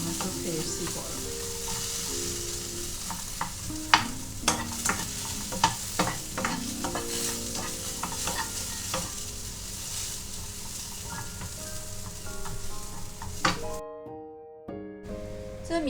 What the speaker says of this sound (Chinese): 大概炒了个5分钟吧，5分钟这样我们就可以熄火了。